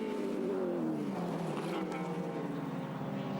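A Nissan Bluebird touring car races past at Surfers Paradise in 1983, its engine a loud droning whine that sweeps downward in pitch as it moves around the circuit, with a steady crowd and track ambience beneath.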